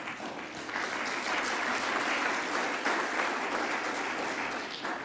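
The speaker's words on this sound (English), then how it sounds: "yes, that's definitely worthy of applause" An audience at an equality awards ceremony applauds steadily and loudly, a dense, sustained wash of clapping lasting several seconds.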